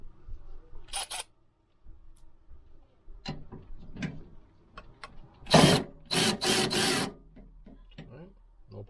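A Milwaukee M12 FUEL 1/2-inch cordless ratchet tightening a fastener to 35 foot-pounds, giving a few short bursts of motor whirring and clicking, close by, with someone speaking briefly around it.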